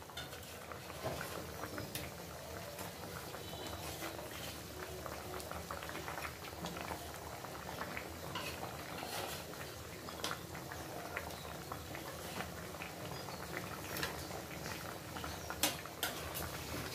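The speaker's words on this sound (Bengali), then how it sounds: "দেখো মাছের ঝোলটা সুন্দর করে ফুটে উঠছে।" Hilsa fish curry with potato and pointed gourd boils steadily in a pot, a continuous bubbling simmer with faint clinks of utensils, no talking.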